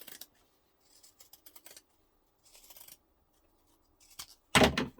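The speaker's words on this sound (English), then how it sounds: "And then just trim your seam allowance down." Scissors snip through fabric while trimming a sewn seam allowance on a messenger diaper bag, a few short bursts of quick crisp cuts with quiet gaps, ending in one louder close cut.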